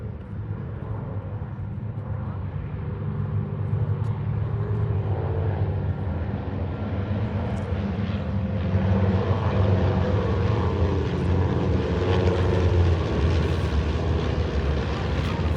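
Aircraft engines at an air show drone overhead, a steady propeller-like rumble that builds gradually louder as a formation approaches from a distance.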